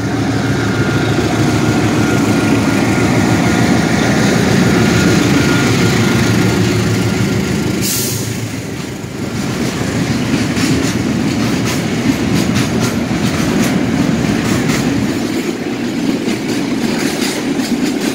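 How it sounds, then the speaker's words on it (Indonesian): A passenger train from Surabaya to Blitar passes a fuel tanker train at Lawang station in Malang, a loud continuous rumble with rhythmic wheel clatter and a brief high squeal partway through. "ini kereta api perantaran dari arah Surabaya menuju Blitar berpapasan dengan kereta api tangki"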